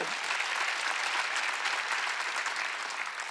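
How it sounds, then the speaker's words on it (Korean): A church congregation at a Wednesday worship service breaks into applause, a continuous, even wash of many hands clapping that holds steady throughout and fades slightly at the end. "깨달은 사람아 박수 치라고"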